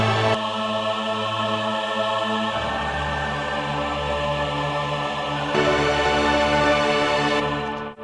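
Orchestral layer isolated from a metal cover arrangement, with sustained strings and layered harmonies swelling steadily, loud and full throughout with a shift in texture midway and a brief dip at the end.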